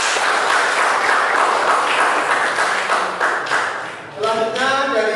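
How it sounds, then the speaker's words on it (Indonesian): A class of students applauds a group after its presentation. The clapping is a steady, dense wash of many hands, fairly loud, and eases off near the end as a voice starts to speak. "Kita beri aplaus buat kelompok 1"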